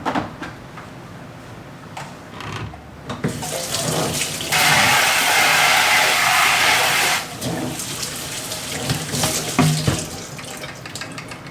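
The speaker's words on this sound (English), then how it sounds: "I'll rinse out the bowl that I actually put the food in." Kitchen tap water runs into a sink while a bowl is rinsed, a close, steady splashing rush that swells louder for a few seconds in the middle, with softer clinks and trickles around it.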